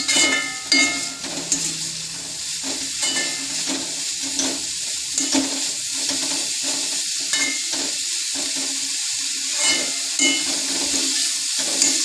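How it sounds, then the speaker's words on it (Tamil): Cabbage fry with salt and grated coconut is stirred in a pan, a steady sizzle broken by repeated scraping strokes of a spoon against metal. "நல்லா கிளறி இறக்கிட வேண்டியதுதான்."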